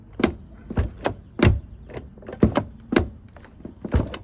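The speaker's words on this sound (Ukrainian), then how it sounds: "Потім закриваються дверки, дивіться." A series of sharp, solid thunks at irregular intervals, like car doors being shut repeatedly nearby, with quiet between each.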